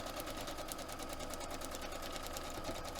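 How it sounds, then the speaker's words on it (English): A sewing machine runs steadily, its needle stitching fabric in a fast, even rhythm, close and continuous with no pauses. "So let's sew this all the way down."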